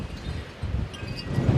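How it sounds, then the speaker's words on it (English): Strong wind gusting hard outdoors on a cold morning as a weather system moves in, a steady low roar of microphone buffeting and rustle that swells around midway and stays loud to the end, with no talking. "the wind is still blowing very hard"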